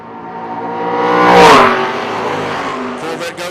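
A Corvette drag racing down the track at a footbrake drag event, engine roaring as it approaches and passes close by, rising to a loud peak near the middle and then fading away as it continues downtrack.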